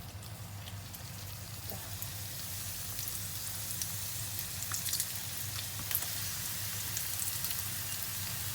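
A soft, continuous sizzle of quail egg wontons frying in oil, with scattered light crackles and pops that rise a little partway through.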